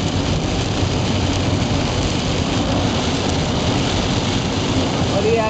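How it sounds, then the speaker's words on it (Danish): Heavy rain pours onto a road during a storm in the USA, a loud dense continuous hiss of drops with a low rumbling undertone and faint voices. "Så kommer der regn."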